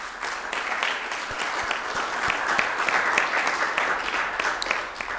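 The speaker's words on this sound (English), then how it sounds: "I think we all owe those members of our task force a round of applause" An audience at a county's State of the County address applauds a task force, steady sustained clapping from many hands, fairly close and even, with no speech over it.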